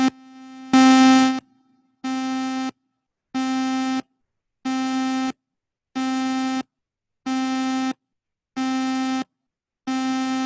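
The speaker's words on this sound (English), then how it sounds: "It's taking the shape of a sine wave." A synthesizer sounds its tone as a sine wave in a long even train of about nine loud, clean bursts, each roughly half a second with short silent gaps between.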